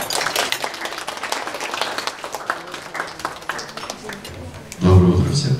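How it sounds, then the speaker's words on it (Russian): An audience at a business breakfast event claps in a steady, dense patter for several seconds before a louder, lower burst of sound cuts in near the end. "Аплодисменты!"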